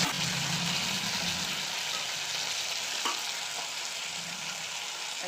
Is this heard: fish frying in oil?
yes